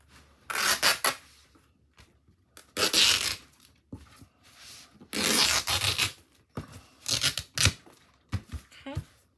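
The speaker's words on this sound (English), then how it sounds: "I'll just tear it." Paper being torn by hand to trim a black and white journal cover, heard as several short ripping bursts with rubbing and handling noises between them, close and fairly quiet.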